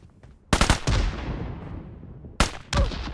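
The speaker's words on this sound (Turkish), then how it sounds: "Bu ne oğlum silah bazuka atıyor lan bildiğin." Gunfire from a weapon in the PUBG Mobile battle royale game: two loud, sharp bursts of shots, each trailing into a long decaying echo, heard alone without talk.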